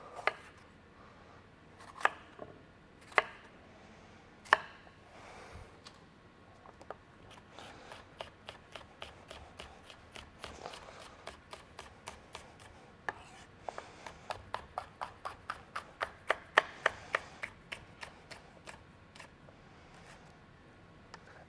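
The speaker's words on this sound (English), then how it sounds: "And then slicing up our capsicum as well." A knife slices capsicum on a cutting board, sparse sharp cuts at first, then a quick steady run of crisp chops, close and clear, no talking.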